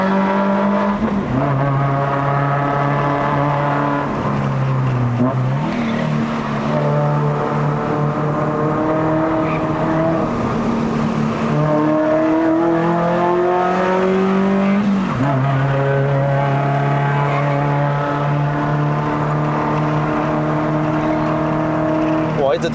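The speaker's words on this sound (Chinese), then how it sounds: "直听到那个 Myvi blow off 的声音诶" A Perodua Myvi Turbo engine revs and climbs through gears on a mountain road, rising and falling whine in repeated sweeps, loud and close, with people talking over it.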